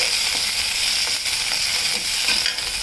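Ajwain leaves and tamarind fry in a pan with a loud, dense, continuous sizzle, close and unbroken, with faint scraping of stirring underneath.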